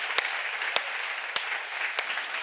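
Audience applause at a church seminar, dense continuous clapping with a few sharp, prominent claps standing out at regular intervals, fairly close and alone without talk.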